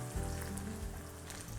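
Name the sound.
dried red chilli, mustard seeds and fenugreek sizzling in oil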